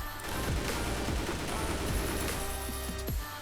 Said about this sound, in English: I even gave him a head start and started firing after I saw him shoot